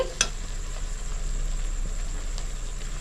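Masala sautéing in a pan for Bengali chicken kosha gives a low, steady sizzle and faint stirring scrapes, with a brief sharper clink near the start and no talk.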